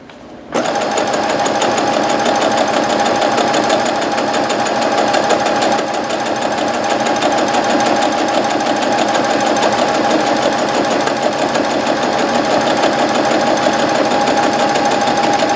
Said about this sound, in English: I have some white strips cut to the same width that I'm going to sew here.